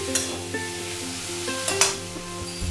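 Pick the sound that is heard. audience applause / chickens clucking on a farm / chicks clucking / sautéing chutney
sautéing chutney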